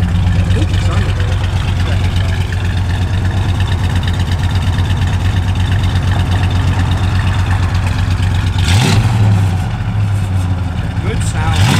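Engine of a 1970 Plymouth Road Runner, steady loud low rumble idling and running throughout with a brief rise near the end, voices faintly under it.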